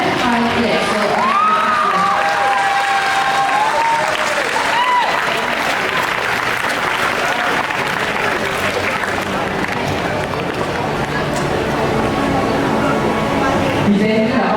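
Large school audience applauding outgoing student council members at a student leaders' investiture, loud continuous clapping with cheers, whoops and children's shouts mixed in, filling the hall throughout.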